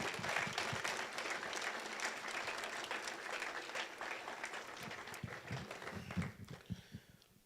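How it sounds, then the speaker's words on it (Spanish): A church congregation claps during a Spanish-language sermon, a loud sustained round of applause that thins out and fades near the end. "Denle un aplauso al Señor, hermanos, por su bendición."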